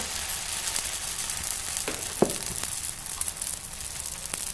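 Onion dosa batter sizzles on a hot pan in a steady, moderately loud hiss, with a few sharp clicks and taps from the pan.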